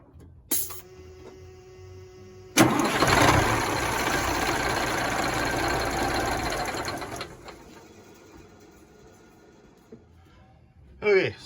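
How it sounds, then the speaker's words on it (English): A Peterbilt 359 truck's engine under restoration cranks briefly, then catches and runs loudly for several seconds before dropping to a quieter idle, with a short burst of revving near the end. "we'll go ahead and start the truck"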